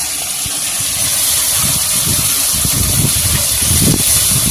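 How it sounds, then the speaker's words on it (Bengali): Small fish, amudi and chuno, frying in hot oil in a home kitchen, a steady loud broadband sizzle and hiss that continues without pause, with low bubbling crackle underneath. "সবগুলো ভেজে নেবো, আর অল্প কটা আছে এইগুলো ভেজে নেবো।"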